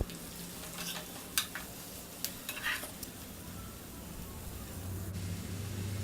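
Finely chopped onions added to hot oil for chicken curry sizzle and fry quietly in a pan, with a few sharp clinks and stirring scrapes from a utensil against the pan.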